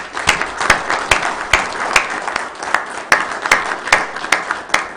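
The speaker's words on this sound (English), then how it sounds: "let's have a round of applause for Lance Peterson" An audience at a county commission meeting gives a round of applause, a steady patter of many hands clapping with sharp individual claps standing out, continuous and fairly close.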